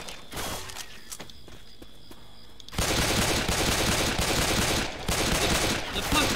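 Rapid pistol fire in the zombie shooter Left 4 Dead 2, on the Dark Carnival campaign: after a quieter opening with scattered shots, a dense, loud barrage of fast, overlapping gunfire takes over, briefly dipping near the five-second mark.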